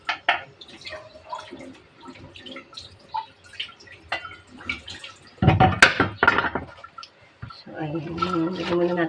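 Weak tap water trickles and drips into a pot to soak stone breaker herbs for nilaga, a faint splashing with a brief louder gush partway through, under intermittent talk.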